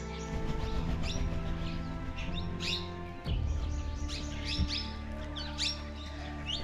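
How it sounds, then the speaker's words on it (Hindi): Parrots and other birds calling in forest at Ranthambore Fort, India, with repeated chirps and tweets scattered over a steady low background hum and a brief thump midway. "यहाँ पे बहुत प्रकार के तोते हैं भाई,"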